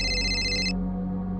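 A phone rings with a steady electronic tone that cuts off partway through, leaving a low sustained hum beneath, close and fairly loud with no voices.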